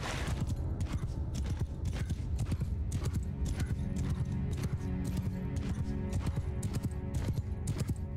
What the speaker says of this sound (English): Horse on my flank.